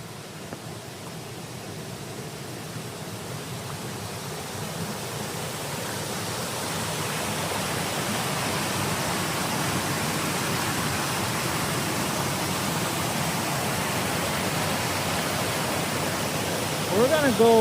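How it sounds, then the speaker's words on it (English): Steady, broadband rush of a small side waterfall on a Stone Mountain hiking trail, heard from a short distance and holding constant for the whole stretch, swelling slightly in loudness midway with no voices over it. "I don't know if the camera, the audio is picking up the waterfalls."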